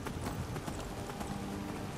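Horse hooves clip-clopping in a steady, continuous gallop rhythm as a rider travels across the landscape in the video game Skyrim, close and loud throughout.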